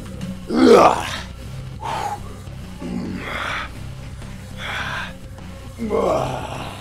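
A weightlifting character in Gym Simulator lets out a series of strained grunts and roaring groans, about five separate bursts spaced a second or so apart. The first effort is the loudest, and the rest are set against a low steady hum.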